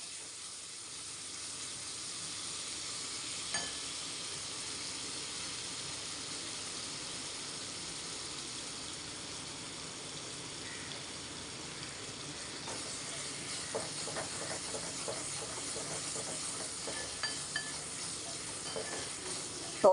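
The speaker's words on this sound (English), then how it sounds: "Cook this till the raw taste of tamarind goes off." A tamarind pickle mixture sizzles and hisses steadily as it cooks in a pan, a soft continuous fizz with occasional small pops and stirring clicks toward the end.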